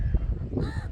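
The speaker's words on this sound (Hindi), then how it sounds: "कौवा देखो पीछे।" A crow caws in short harsh calls over a steady rumbling background of wind or outdoor noise.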